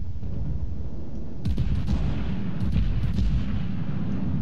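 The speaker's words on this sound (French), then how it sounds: "j'ai tiré mes salves" Heavy naval gun salvos from a Bayern battleship in World of Warships, several deep booming blasts in quick succession starting midway, over constant low rumbling battle noise, no speech.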